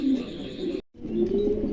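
Pigeons offered for sale, five-kilo birds, cooing in a steady low warble, loud and close, with a brief silent gap midway.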